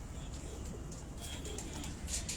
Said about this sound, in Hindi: ये बड़े कदों के कबूतर हैं मलक साहब, मैं देख रहा हूँ सारे।